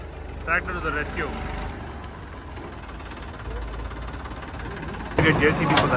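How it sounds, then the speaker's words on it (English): A tractor engine rumbles steadily nearby at an off-road event in Chikkamagaluru, with people's voices over it at the start and near the end. "Tractor to the rescue."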